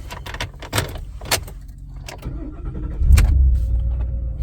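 A 2022 Ford F-250 XLT crew cab 4WD pickup is started: a few clicks and key clatter, a brief cranking, then the engine catches and settles into a close, steady idle rumble.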